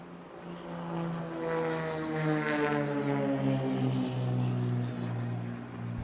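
A propeller airplane flies an inside-outside loop at the Eastbourne airshow, its steady engine drone rising and falling in pitch as it climbs and turns, loud and fairly close throughout.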